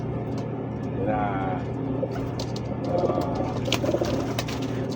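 Pigeons coo softly at close range in a few short, throaty bursts, while a person talks nearby.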